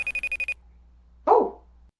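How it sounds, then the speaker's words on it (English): A phone rings in a short electronic burst of six rapid evenly spaced pulses, loud and close, then cuts off; a brief bark-like noise follows after a quiet pause. "Oh, sorry, that's my phone."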